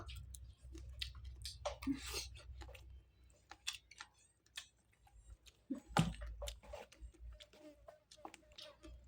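Someone chews sticky rice close to the mic during a home meal, with soft wet mouth sounds and an occasional crunch in an irregular rhythm, between short pauses and faint background noises.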